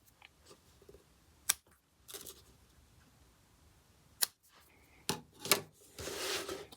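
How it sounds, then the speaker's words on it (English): Scissors trimming bookbinding mull and cords for split-board binding tabs: a few sharp, separate snips close up with pauses in between, then a busier cluster of cuts and rustling toward the end, with no talk. "I'm just going to trim this mull down ever so slightly. And then also trim these cords back."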